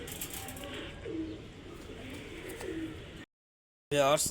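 Soft, repeated cooing of pigeons nearby over a faint background murmur, cut by a short silence before a louder burst of coos.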